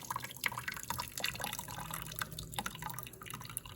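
Beautyberry juice drips and trickles through a strainer in irregular little splashes over a soft watery background, close and quiet.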